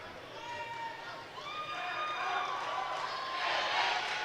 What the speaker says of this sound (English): You can hear the crowd cheering.